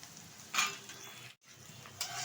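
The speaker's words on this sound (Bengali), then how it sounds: "ভালোভাবে কিন্তু একটু ভেজে নিচ্ছি পেঁয়াজ আর লঙ্কাটা তেলের সাথে।" Onion and green chillies fry in oil with a soft, steady sizzle and two brief stirring scrapes, fairly quiet and close, with a momentary dropout in the middle.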